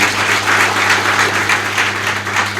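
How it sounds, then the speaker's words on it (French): Audience at a training centre ceremony applauds graduates, a sustained loud round of clapping with a steady hum underneath. "Applaudissez pour eux aussi."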